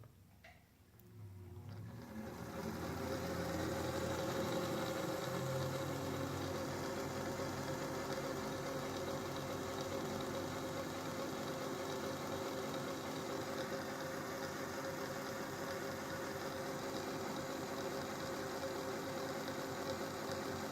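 A freshly greased Singer 201-2 sewing machine, gears newly lubricated, starts up and runs steadily, a smooth continuous mechanical hum and whir that holds at even loudness for about twenty seconds with no talk.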